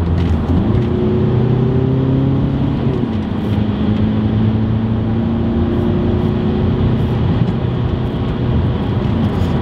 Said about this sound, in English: That was a good downshift.